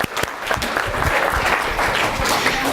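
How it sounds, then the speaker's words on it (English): An audience at a college student event breaks into a loud, dense round of applause of many hands clapping, with some crowd noise mixed in, sustained through the moment. "Give him a round of applause."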